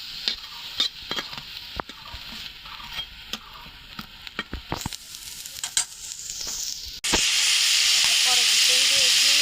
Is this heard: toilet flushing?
no